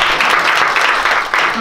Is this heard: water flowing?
no